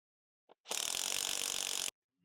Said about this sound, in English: Use a 13mm socket to tighten the bolt.